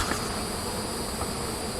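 Honeybees buzzing around an open hive during a June hive inspection, a steady close drone that fills the whole moment without any voices.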